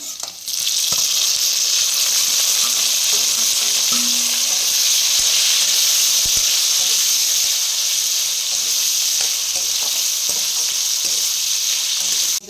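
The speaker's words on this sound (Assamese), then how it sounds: "এতিয়া মই কেৰাহীত তেল দিছোঁ, পিঁয়াজ দিছোঁ" Boiled local pork frying in hot oil with onions in a wok, a loud, continuous close sizzle with occasional stirring scrapes and clicks; no talk.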